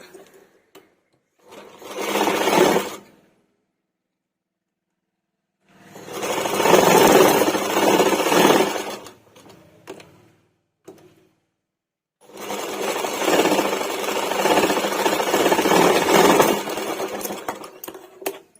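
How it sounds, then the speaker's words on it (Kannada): A sewing machine stitches a blouse piece onto its lining in three separate bursts of steady, close whirring, with silent pauses between runs. "ಇವಾಗ ಈ ಲೈನಿಂಗ್ ಮೇಲೆ ಈ ಪೀಸ್ನ ಇಟ್ಟು ಸ್ಟಿಚ್ ಮಾಡ್ಕೊಳ್ಳೋಣ"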